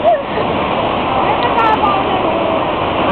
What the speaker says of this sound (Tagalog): Ang laki ng alon, ano?